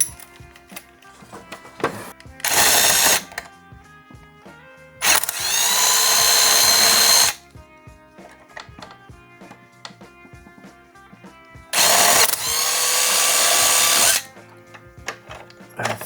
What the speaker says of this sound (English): So I'm gonna go find a drill bit and we're gonna widen these out.